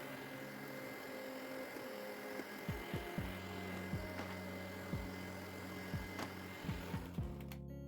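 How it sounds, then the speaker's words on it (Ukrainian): An electric mixer whips eggs with sugar into a fluffy foam, a steady mechanical whir with repeated rising and falling pitch sweeps as the speed changes, fairly faint and with no voices. "збиваємо яйця з цукром до пишної піни"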